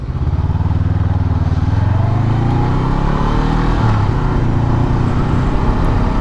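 A Honda CBR500R motorcycle rides through city traffic, its engine droning steadily and loudly up close with a slight rise as it pulls away, alongside the hum of nearby traffic.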